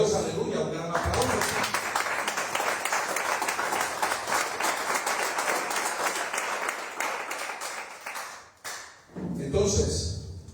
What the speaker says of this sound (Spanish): Gloria a Dios, aleluya, un gran aplauso.